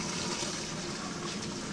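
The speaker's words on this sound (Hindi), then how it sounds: "वहाँ पर पानी गिर रहा है" Water gushes steadily from a running tubewell on a farm, a loud, continuous rushing splash with no pauses, heard close by.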